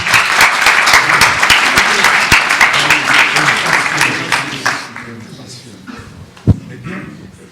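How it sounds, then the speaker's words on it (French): An audience at a conference on artificial intelligence, aromas and perfume applauds for Tania, with dense clapping for about five seconds that then thins out and fades, and one sharp knock near the end. "je voudrais qu'on l'applaudisse"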